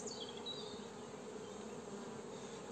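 Buckfast honey bees buzz softly at an open hive, a continuous faint drone of many insects with one or two individual bees passing close early on, and no talking.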